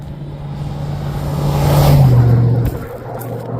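A single car passes on a hot California desert road near the Blythe Intaglios, its engine and tyre roar swelling up close and loud, then fading away.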